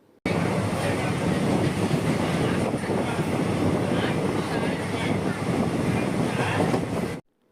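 A Coimbatore to Tiruchendur passenger train rolling along the rails, heard from inside as a loud, steady rumble with faint clickety-clack and wind rushing past, continuous until it cuts off abruptly.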